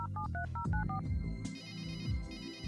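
Phone ringing in the adventure game Runaway: A Road Adventure as a call is placed: a rapid run of electronic dial tones, then a steady repeating ring tone, loud and alone with no talk.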